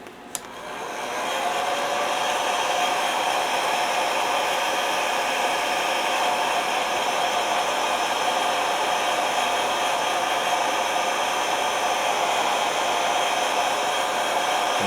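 A hair dryer blows on fresh paint on a model car hood, starting up with a click and then holding a loud, steady, airy roar for the whole stretch, with no talk.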